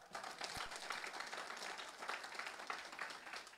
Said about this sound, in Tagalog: Lahat ng nagmamahal kay Jesus pumalakpak.